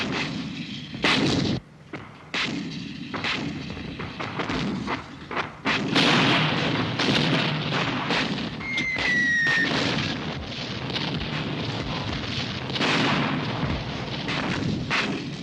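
Artillery rounds fire and explode in a wooded area, with heavy booms and blasts rolling one after another into a sustained, dense rumble that stays loud throughout.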